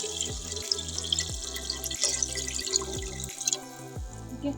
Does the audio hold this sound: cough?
no